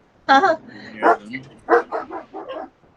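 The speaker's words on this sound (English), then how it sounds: "Those are my dogs." Several dogs bark indoors in a room of a ball python breeder, a close burst of sharp barks and yips in an uneven run of about six calls.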